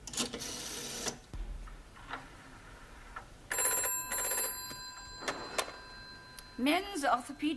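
Old-style telephone bell ringing in short bursts from a sitcom scene, a rapid metallic trill that repeats, mixed with scattered voices and small clicks in a quiet room.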